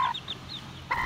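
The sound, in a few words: rooster clucking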